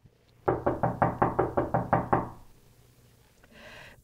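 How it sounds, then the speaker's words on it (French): Someone raps on a door ten times in a quick, even rhythm, sharp and close, followed by a brief quiet and a faint rustle at the end. "cognons tout de suite à la porte de Dame Nature et voyons ce qui s'y passe."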